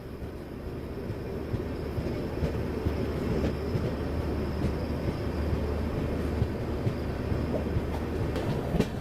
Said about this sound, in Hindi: हुबली सुपरफास्ट मेरे ख्याल से यहां से भी निकल गई। काफी तेज आई है वो गाड़ी भी।